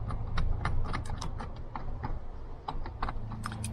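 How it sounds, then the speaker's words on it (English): T30 Torx screws being driven back in on a truck rear seat give a rapid, ratcheting run of small metallic clicks, close and moderately loud, with a low mechanical hum underneath and no talk. "we'll go ahead and start refastening in our T30 Torx screws"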